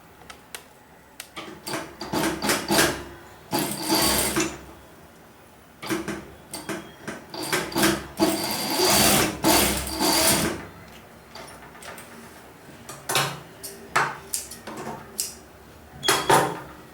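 An electric sewing machine stitching elastic bands laid one over another for a pair of shorts, running in short whirring bursts separated by pauses, close and fairly quiet.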